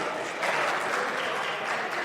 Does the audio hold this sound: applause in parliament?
yes